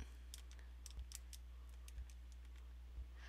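Calculator keys pressed one after another, giving a run of faint, irregular light clicks over a steady low hum, with no voices.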